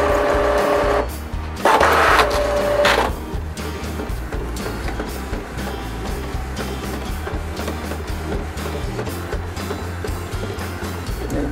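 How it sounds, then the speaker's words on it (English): A photo printer prints a photo, running steadily with a mechanical whir and rhythmic feed noise, a brief louder burst near the start, then a continuous hum. "Now we're just waiting on my printer to print out."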